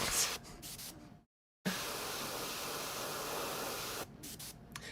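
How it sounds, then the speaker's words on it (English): Aerosol spray paint priming a miniature held at an angle, hissing in steady bursts: a short burst, a brief gap of silence, then a long continuous spray lasting several seconds before a few quick puffs. No talking. "So are you spraying? You are spraying at an angle."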